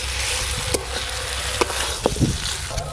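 Fried potatoes, pointed gourd and shrimp stir-fried in spiced oil without water give off a steady, close sizzle, with a few sharp scrapes and taps of the stirring spoon against the pan.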